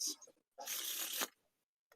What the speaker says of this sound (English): We're going to shuffle up the deck like that.